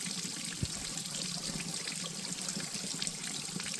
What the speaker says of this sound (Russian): Вода живительная сила, только как к ней подобраться безопасно